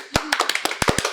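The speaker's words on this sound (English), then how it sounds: "Got applause." Sparse applause from a few hands, roughly ten separate sharp claps in an uneven rhythm, close and fairly quiet with no voices over them.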